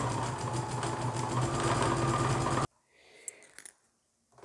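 Sewing machine stitching a dart in a wrap skirt, a loud steady mechanical whir running without a break for under three seconds and then stopping abruptly, followed by faint handling clicks.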